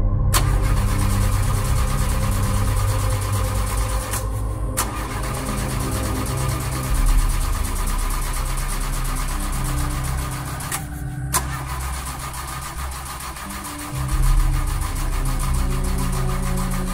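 A car engine being restarted in a video game after a crash, with a steady loud rumble and a couple of brief cut-outs as it cranks and tries to catch again.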